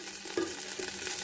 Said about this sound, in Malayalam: ഇതിലേക്ക് ഞാൻ കൊരട്ടിയും മുന്തിരിയും ഒക്കെ എടുത്തിട്ടുണ്ട്. ഇനി ഇതൊക്കെ നന്നായിട്ട് വറുത്തെടുക്കുക.